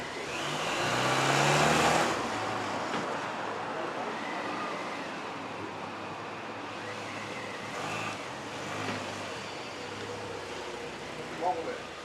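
A car engine idles and revs, loudest in the first couple of seconds, then settles into a steady running hum with faint voices nearby.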